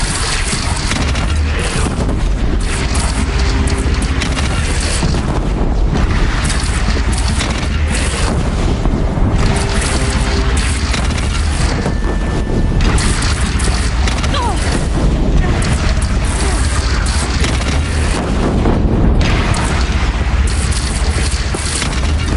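Heavy cannon fire and explosions boom through a battle in the video game Horizon Zero Dawn, loud and continuous with dense rumbling crashes, while voices shout over the fighting.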